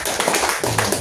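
A church congregation claps together during a sermon, a short burst of loud, close, rapid hand claps.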